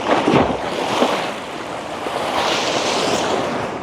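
Stormy sea waves crash and wash onto Langeron beach in Odesa, loud and close, with rushing surf surges and wind buffeting the microphone.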